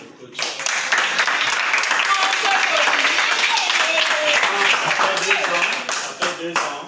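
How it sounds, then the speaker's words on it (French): A crowd at a football academy celebration bursts into sustained clapping and cheering for the coach, loud and continuous for several seconds, with voices mixed into the applause. "Merci les gars, acclamez pour votre coach."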